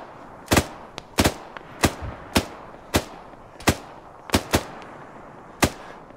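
Sniper gunfire in the military video game Arma: about ten sharp, cracking single shots at irregular intervals, fairly loud and near, with no talking in between.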